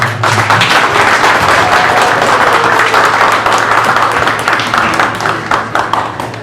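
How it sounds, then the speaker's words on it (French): Audience applause after a speech at a reception for a traditional Cameroonian king, held in Maryland; a crowd claps in dense, sustained bursts that thin slightly toward the end. "Encore une fois, mesdames et messieurs, des applaudissements pour ce message riche et fort."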